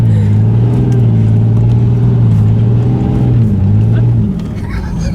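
A truck drives along a road on the way to a family Christmas visit, its engine a steady low drone with road rumble throughout that eases slightly near the end.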